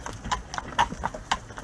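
Horse hooves clip-clop on pavement as a Fiaker carriage is pulled through Vienna in winter, a close, uneven run of sharp knocks.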